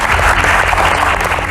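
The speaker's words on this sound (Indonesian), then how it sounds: "Tepuk tangan dulu buat Sherly." Steady, dense audience applause for Sherly Anavita fills the whole short stretch, loud and even, with a crowd clapping continuously and no pauses.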